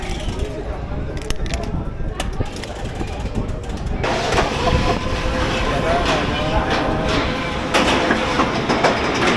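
Flying train ride at Dream Park amusement park, rumbling wheels and clattering track with mechanical clunks that grow louder midway, under crowd noise and voices.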